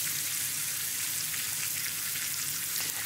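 Pork filet mignon sears in a hot pan with a steady, dense sizzle that stays loud and even throughout, with no talking.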